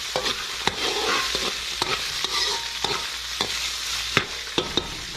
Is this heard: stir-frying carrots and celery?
yes